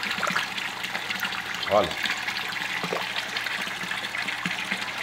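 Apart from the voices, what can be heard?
tilapia fish eating feed pellets at the water surface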